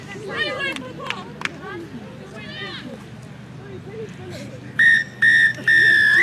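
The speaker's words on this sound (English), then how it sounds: "And there is the final whistle." A referee's whistle ends a women's rugby World Cup match between England and Samoa, three sharp blasts with the last held longest, cutting clearly through steady stadium crowd noise.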